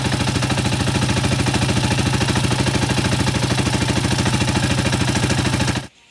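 A 28-year-old Honda TMX155 motorcycle with contact-point ignition runs steadily after repair, its close, loud single-cylinder idle a fast, even putter with mechanical clatter, cutting off abruptly just before the end.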